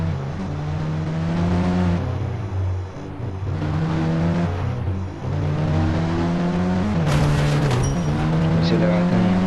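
In a video game, a car engine revs and shifts as it drives into a parking spot, loud and close, with tire noise and a brief squeal near the end, a voice talking over it.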